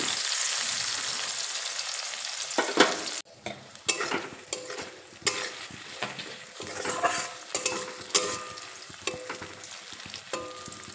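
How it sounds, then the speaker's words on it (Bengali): Chopped onion frying in a pan over low to medium flame, a soft continuous sizzle broken by repeated spatula scrapes and taps against the pan. "পেঁয়াজ কুচি দিয়ে একটু নেড়ে চেড়ে নেবো এই পেঁয়াজটা হালকা একটু নরম হয়ে আসা পর্যন্ত রান্না করে নেব"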